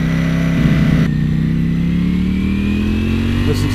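Ducati Panigale V4S motorcycle engine revving while off-roading, a loud close engine note rising steadily in pitch, with a sharp shift partway through.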